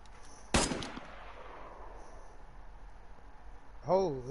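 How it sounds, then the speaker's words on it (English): A single loud, sharp gunshot in a multiplayer PvEvP survival game cracks out and echoes away over a quiet outdoor field, followed by near silence, then a brief spoken exclamation at the end. "Come towards my gunshot."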